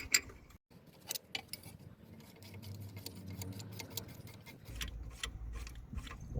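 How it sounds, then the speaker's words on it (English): A wind-back tool turns a rear brake caliper piston back on a Vauxhall Opel Antara, producing quiet, rapid ratcheting clicks and faint metallic turning and scraping noises, close but low in level, with no talking. "We're gonna wind the piston all the way back."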